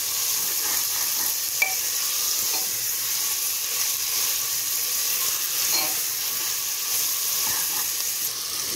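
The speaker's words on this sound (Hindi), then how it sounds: "मिलाने के बाद अब इसे अच्छे से भून लेंगे।" Minced meat and liver (qeema kaleji) for a Bakra Eid dish fry in a pan with a steady, close sizzle and hiss, broken by faint scraping clicks of stirring; no one talks.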